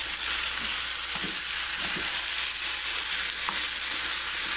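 Scallops fry in a hot pan with a steady, close, loud sizzle and faint stirring scrapes throughout.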